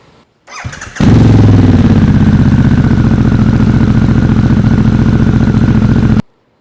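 A Harley-Davidson Pan America CVO motorcycle fitted with a new head pipe cranks and fires up, then idles loud and close with a steady, pulsing exhaust beat for about five seconds before it cuts off abruptly.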